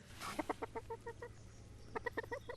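Chickens cluck in two short bursts of rhythmic, repeated calls, fairly close and clear over a faint low hum, with no talk.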